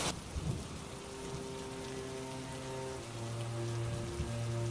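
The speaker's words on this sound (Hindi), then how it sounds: "तुरंत आसमान में बादल घिर आते हैं और तेज मूसलाधार बारिश होने लगती है" Heavy torrential downpour drenches farm fields in a steady, dense roar of rain. It is continuous and close, with low rumbling underneath and no voices.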